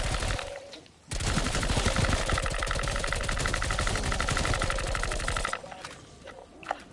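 Sustained rapid automatic gunfire in a zombie video game, loud and continuous for about four seconds and then cutting off abruptly, with quieter background sounds before and after.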